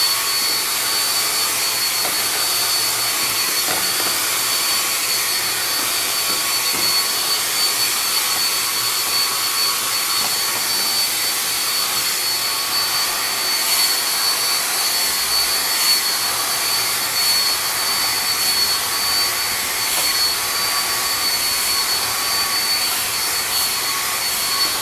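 A hair dryer set to medium blows steadily throughout while natural hair is being dried, a loud, close, unbroken whoosh with no voices.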